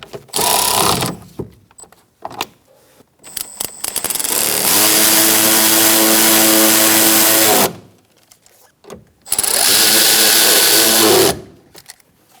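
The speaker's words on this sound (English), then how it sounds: "So just put your bolts back in. Okay, tighten these up." A power tool tightens bolts on a Ford front power window regulator. Loud, close whirring comes in several bursts, one long sustained run and shorter ones either side, with no voice over it.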